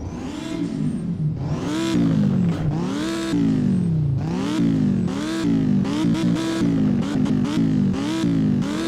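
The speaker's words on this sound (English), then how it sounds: "so now we're gonna rev it inside and see how that sounds" A car engine in the video game Driving Empire revs hard again and again, rising and falling in repeated loud, close bursts with no talk.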